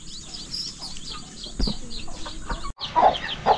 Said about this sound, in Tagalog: Ayan o, daming sisiw mga farmer. Dami pong sisiw.